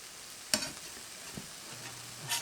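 Pancakes sizzle faintly on a previously unused griddle outdoors on a porch, with a soft steady hiss, a sharp scrape or clatter, and a few light utensil taps.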